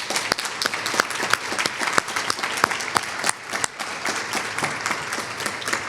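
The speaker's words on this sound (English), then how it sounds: "So let's give them a round of applause." Audience applause at a university awards ceremony, dense clapping with sharp individual claps standing out, continuous and fairly close throughout.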